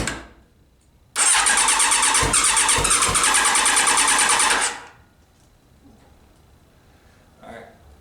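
A Suzuki Bandit 1200 motorcycle engine cranks and briefly fires in a loud burst of about four seconds, then cuts out, leaving quiet room noise and a faint later sound.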